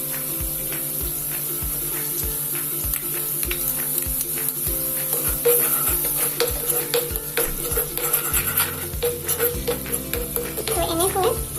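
Crispy momos coated in corn flakes fry in a pan while a utensil scrapes and stirs against the metal in repeated strokes over a continuous sizzle, close up and fairly loud.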